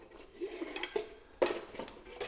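Metal pans and parts of a Lava Endurance gas camping stove clatter and clink as they are handled, giving several sharp knocks at irregular intervals with a louder clank near the middle, close by and with no talking.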